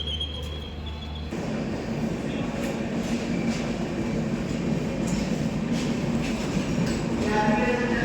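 A train at a railway station at night, a steady rumbling roll of wagons with clattering wheels and brief squeals, loud and continuous throughout, with background voices faintly underneath.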